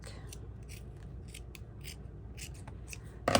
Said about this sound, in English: I need to trim off a little bit of this fabric because it's getting too too thick